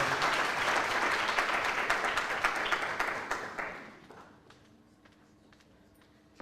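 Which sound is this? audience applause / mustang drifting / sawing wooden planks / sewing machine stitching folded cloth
audience applause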